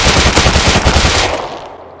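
Fully automatic gunfire in the video game Rust, a rapid loud burst of evenly spaced shots for about a second and a half before a short decaying tail, alone with no voices.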